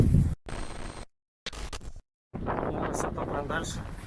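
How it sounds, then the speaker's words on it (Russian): Strong blizzard wind on a ski trek buffets the microphone in rough gusts, broken by abrupt cuts and silent gaps, then continues as steady noise beneath a person talking. "Ветер здесь бешеный"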